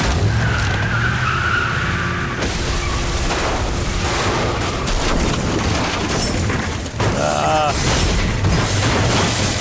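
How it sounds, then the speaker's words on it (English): A car in The Walking Dead video game skids and crashes, a loud sustained scrape of tyres followed by heavy impacts and crunching, with a sharp break partway through and a groaning tone near the end. "First person car crash."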